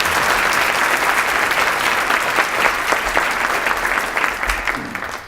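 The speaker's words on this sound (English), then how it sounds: "Let's give them a round of applause" A room full of people applauds, steady clapping that carries on for several seconds before starting to taper off.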